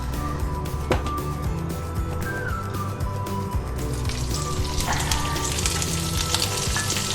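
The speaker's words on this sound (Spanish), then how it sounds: "para saltear aquí los espárragos ya cocidos a fuego fuerte" Cooked white asparagus sautés in olive oil over high heat, giving a steady close sizzle that grows brighter and hissier in the second half, with no talking.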